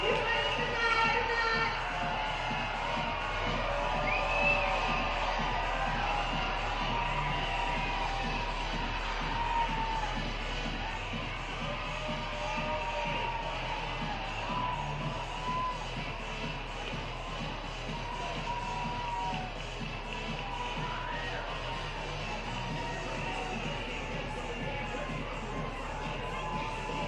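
A crowd at an Edmonton Riverhawks versus Bellingham Bells baseball game keeps up a steady, dense murmur with shuffling and scattered shouts, continuous and mid-distance, with voices talking throughout.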